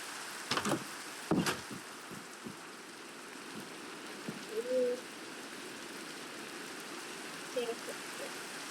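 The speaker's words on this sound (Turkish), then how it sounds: "Ya gerçekten yağmur mu yağıyor?" Steady rain falls in Minecraft, a constant hiss across the clip with a few sharp knocks early on and brief tonal blips near the middle and end.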